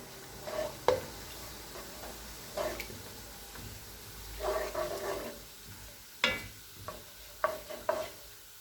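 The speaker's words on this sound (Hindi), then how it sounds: "अब हम इसमें खड़े मसाले शामिल करेंगे। इसे कुछ सेकंड के लिए भूनेंगे।" Whole spices frying in hot oil in a pan while cooking chicken biryani, with irregular bursts of sizzling and crackling as they are stirred, close by and with no talking.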